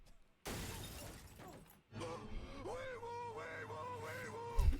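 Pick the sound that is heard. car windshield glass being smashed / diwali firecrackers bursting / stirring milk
car windshield glass being smashed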